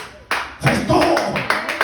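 Applause in a church service: a few bursts of hand clapping, close and fairly loud, starting abruptly and coming in uneven waves over a couple of seconds.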